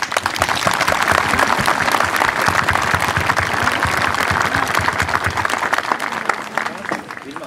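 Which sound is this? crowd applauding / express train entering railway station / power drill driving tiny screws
crowd applauding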